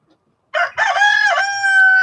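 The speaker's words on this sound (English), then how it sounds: "there's quite a few roosters around here" A rooster crows loudly and close by, a choppy start rising into a long, sustained high note that holds to the end.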